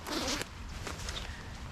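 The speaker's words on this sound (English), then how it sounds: "is it zips from the bottom and the top" Zipper on a waterproof changing robe being undone, close up: one fast rasping pull followed by a softer, steadier stretch of zipping.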